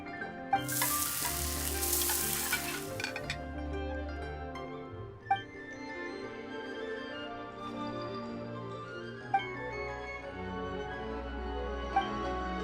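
Food sizzles while cooking in the video game Genshin Impact, with a bright burst of frying near the start, then a softer sizzle beneath a steady musical backdrop with a few light clinks.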